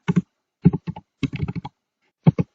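Crisp keystrokes on a computer keyboard, about a dozen quick taps in short irregular bursts with a brief pause before the last pair, close and alone.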